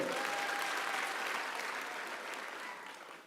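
An audience bursts into sustained applause at a speech in Kenya, a dense, even wash of clapping that carries on throughout and slowly tapers toward the end.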